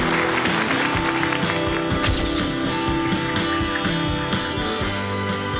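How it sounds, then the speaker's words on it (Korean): Studio audience applause on a Korean quiz show, a dense, steady wash of clapping from a large crowd that fills the whole stretch at full loudness with no pause. "따뜻한 위로의 박수를 부탁드리겠습니다"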